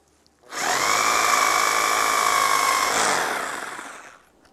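A Deko DKRH20B50 cordless rotary hammer runs in reverse rotation with a steady, loud motor whine. It spins up quickly, holds for about three seconds, then winds down alone.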